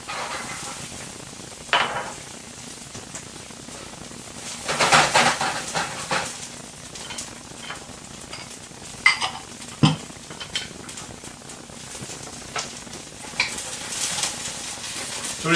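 Carrots and peas stir-fried in a wok for cauliflower fried rice, a steady sizzle with intermittent scraping and stirring clatters of a utensil against the pan, moderately close, no talk.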